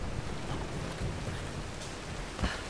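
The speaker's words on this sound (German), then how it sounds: "Wahrscheinlich regnet es ja wegen der Göttin so" Rain falling in Tomb Raider (2013), a steady dense patter of rain with a low rumbling undertone and one slightly louder thud near the end, no talking.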